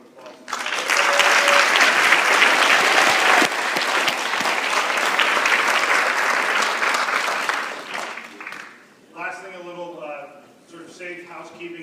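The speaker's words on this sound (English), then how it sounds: "they deserve a round of applause" Audience applause fills a college lecture hall at a Black History Month event, sustained, dense clapping for about eight seconds before fading into someone speaking over the room.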